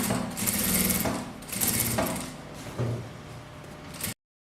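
Sewing machine runs in close, steady bursts while stitching a seam on a rug, a rapid mechanical whirring chatter with a brief pause before stopping abruptly, no talking.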